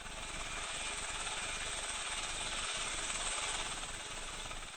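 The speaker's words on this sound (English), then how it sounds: "Jordanian helicopters carrying aid were allowed into Gaza." Jordanian aid helicopters flying into Gaza, a dense, steady rotor and engine roar heard from close range and holding at an even level throughout, with a faint hiss and no talking.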